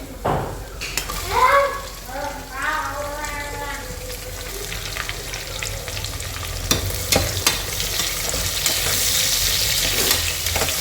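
Chopped onions fry in oil in a pan for chicken dum biryani, a continuous close sizzle with spoon scrapes and clinks, and a brief voice near the start.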